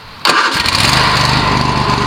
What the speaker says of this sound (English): Alright, so Henry, fire it up.